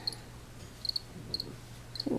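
Feeder crickets for a tarantula chirp in short bright bursts, three or four spaced chirps, near and fairly faint, with a brief soft rustle at the end.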